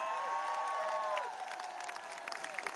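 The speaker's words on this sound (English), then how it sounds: "Why don't we also have a massive round of applause for our signers" A crowd at a mass London demonstration against Trump's visit applauds and cheers steadily, with a few high whoops rising over the clapping before it thins slightly toward the end.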